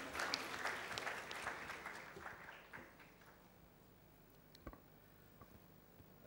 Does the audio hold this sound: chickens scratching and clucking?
no